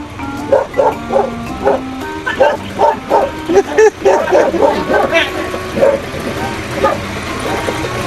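A dog barks repeatedly in short, yappy bursts, mixed with whimpers, while people talk nearby during a fire and rescue snake-catching call.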